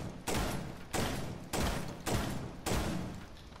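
An M12 rifle in Rainbow Six Siege firing rapidly, five or six loud, close bursts of gunfire spaced roughly half a second apart, each with a short trailing tail.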